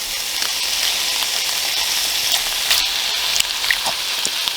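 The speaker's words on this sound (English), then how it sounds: "it's time to add the finely chopped tomatoes." Chopped tomatoes land in a hot pan of meat with tomato paste and carrots for a penne ragu bake, giving a loud, close, continuous sizzle with scattered crackles and pops and no talking.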